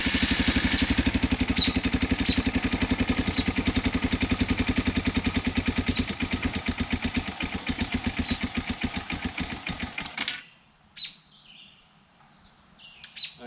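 A Chinese 110cc youth ATV, a Model 3050B four-wheeler, runs with a steady fast putter close by for about ten seconds, then cuts out, leaving a quiet spell with a few faint bird chirps.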